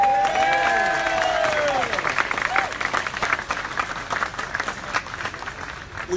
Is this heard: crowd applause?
yes